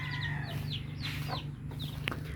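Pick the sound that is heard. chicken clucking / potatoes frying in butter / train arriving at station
chicken clucking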